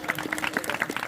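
Audience clapping at a kirtan, a steady patter of many hands, loud and close, continuing without pause throughout.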